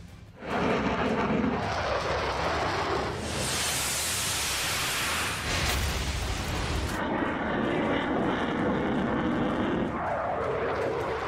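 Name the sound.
fighter jets flying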